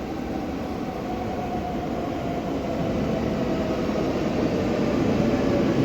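Train pulling into a station in Japan, a steady rumbling roar of wheels and motors that grows slightly louder as it approaches, continuous with no voices.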